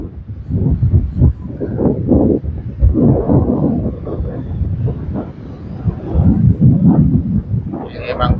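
Strong wind gusts roar and buffet the microphone at Pantai Sepat beach in Kuantan, a rumbling, uneven wash that runs the whole time under a voice.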